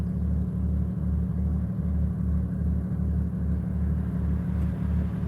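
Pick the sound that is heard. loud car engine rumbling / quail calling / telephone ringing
loud car engine rumbling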